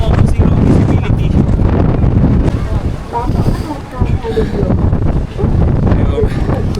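Strong wind buffets the microphone on a cold, foggy mountain summit at Fansipan near Sapa, Vietnam, a loud continuous rumble with gusty surges and people talking over it.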